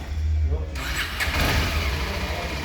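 A single-cylinder Kawasaki Ninja 250SL motorcycle engine runs nearby with a steady low rumble after a brief burst at the start, while people talk over it.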